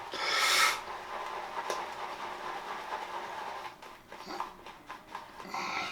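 A shaving brush whips Løthur Grooming Black soap into a well-hydrated lather in a bowl after a little water is added, opening with a brief loud wet swish, then a softer steady rasping churn with small surges, close and without talk.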